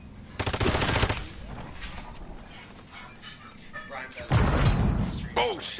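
Automatic gunfire in Warzone comes in two loud, rapid bursts of shots separated by a quieter stretch with voices talking in between.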